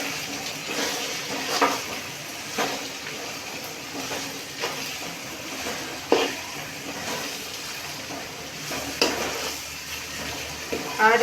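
Onions and green onions stirred in a frying pan for a tuver totha dish, a steady soft sizzle broken by repeated scraping stirs, close and alone.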